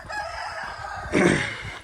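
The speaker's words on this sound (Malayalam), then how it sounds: "ആ കോഴി പോകുന്നല്ലോ" A chicken near a rural Kerala home gives a brief, close squawk that builds in a second burst near the end, with no speech.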